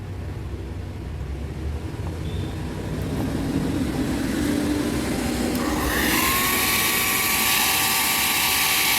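A faulty hair dryer whose fan will not work, so only heat comes out: a motor whirs steadily, then grows louder and higher-pitched as a strong blowing rush takes over, like a hair dryer running at full power.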